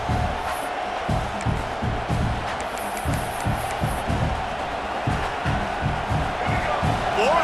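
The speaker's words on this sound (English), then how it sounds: "this crowd is making it miserable on this offense" A packed college football stadium crowd in EA Sports College Football 26 roars loudly and steadily on a fourth down, with a rhythmic pulsing chant or stomp running beneath the constant din.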